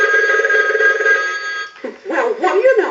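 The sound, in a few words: telephone bell ringing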